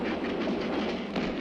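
A train rolls along its rails in a scene from the 1967 film The Good, the Bad and the Ugly, giving a steady, close rumble with faint rhythmic clatter and no speech.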